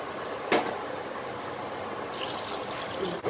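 Steady stream of water pouring into a pot for biryani, a continuous splashing hiss with a brief clatter near the start and another near the end.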